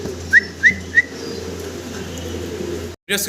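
Fancy pigeons give three short, close cooing notes in quick succession over a low steady hum, followed by a brief muffled thump.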